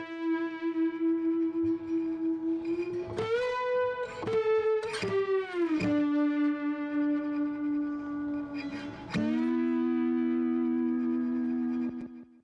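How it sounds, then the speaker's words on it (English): An electric slide guitar processed with distortion and compression plays sustained notes that glide smoothly between pitches, with a gritty, distorted tone and a short slapback echo. "Here's what that slide sound sounds like by itself."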